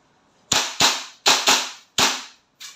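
A WE M4 RIS gas blowback airsoft rifle fires six sharp semi-automatic shots in irregular pairs, each a loud crack with a short blowback tail, with no talk.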